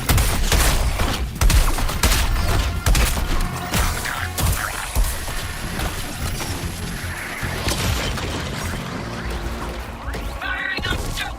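Dense bursts of gunfire from the game Suicide Squad Kill the Justice League, rapid sharp cracks and booms piling over one another in a loud, chaotic barrage with scattered impacts.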